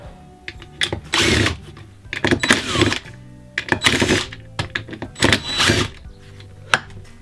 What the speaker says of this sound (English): So we just got to take out all these screws, twist this around, and we're good to go.